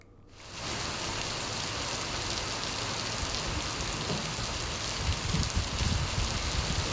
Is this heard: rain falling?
yes